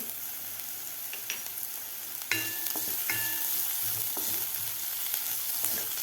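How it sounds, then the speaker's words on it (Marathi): Onion sautés in a pan over a high flame, giving a continuous loud sizzle with scattered clinks and scrapes from stirring and no talking. "मोठ्या गॅसवर एक मिनिटभर परतून घेतलेला आहे"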